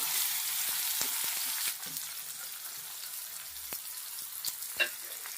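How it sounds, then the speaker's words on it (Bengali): Thinly sliced onions fry in hot oil in a pan for a Bengali fish curry, giving a steady close sizzle with a few soft utensil taps scattered through. "পেঁয়াজটা এবার তেলের মধ্যে দিয়ে দিলাম"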